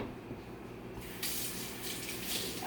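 Produce rinsed under a running kitchen tap, a steady hiss of water that swells louder and brighter partway through as the flow strengthens, with no talking.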